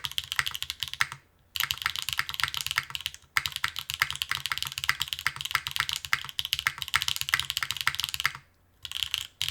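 Rapid, steady typing on a custom-built DN Works 02 mechanical keyboard with slightly resonant alpha keys, close and clear, running continuously with two brief pauses.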